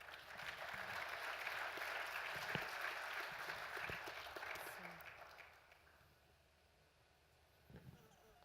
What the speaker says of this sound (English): I think the panel deserves a round of applause.